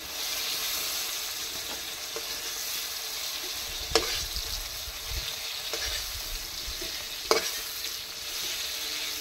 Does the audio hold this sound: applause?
no